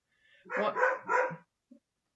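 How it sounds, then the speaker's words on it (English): A dog gives a quick burst of three close barks, followed by a short, faint yip. "that's Murphy barking"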